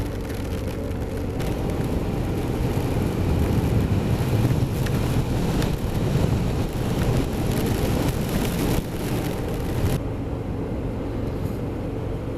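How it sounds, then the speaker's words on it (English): Heavy rain pours down during a ride on a 2019 Indian FTR 1200 S flat-track-style motorcycle, a loud, steady wash of hiss and spatter that fills the whole stretch with no voices. "And it's really decided to start raining now."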